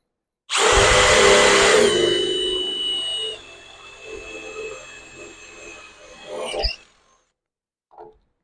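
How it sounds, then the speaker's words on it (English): A power drill with a bit just over 1/4 inch whines loudly as it bores through metal for a transmission dipstick mount, pitch dropping as it bites, then winds down; a short clink follows after a pause. "And then my drill bit is a little bit bigger than a 1/4 inch."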